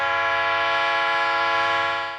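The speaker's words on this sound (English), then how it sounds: "Pressurized air operates the locomotive brake and horn." A locomotive horn driven by pressurized air sounds one long, loud, steady chord of several tones, held for about two seconds and starting to fade at the end, with no voices.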